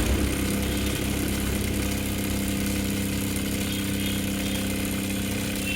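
A sewing machine stitches the seam of a cloth bag, its motor running in one steady, unbroken drone from start to finish with no voices.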